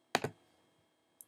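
Two quick mouse clicks close together on a feedback knob, sharp and near, followed by a brief faint tick a second later, otherwise quiet.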